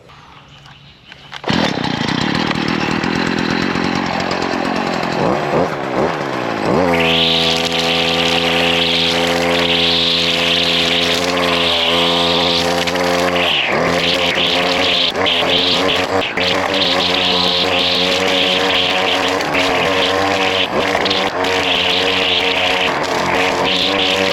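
Stihl FS70R string-trimmer brush cutter starting up and revving, then running at steady full throttle through thick brush, loud close high engine whine with a constant drone.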